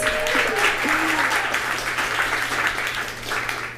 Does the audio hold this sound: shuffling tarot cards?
no